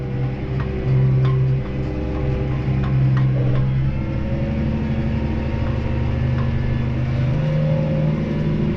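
Tractor pulling a disc harrow slowly through a wet, heavy harvested corn field, steady close engine drone with slight rises and falls in load throughout, no talking.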